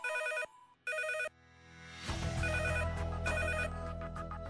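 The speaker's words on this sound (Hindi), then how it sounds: "फोन की घंटी बजी।" A telephone rings in two bursts of bright electronic trilling, then a loud swell of dramatic music rises and continues beneath further ringing.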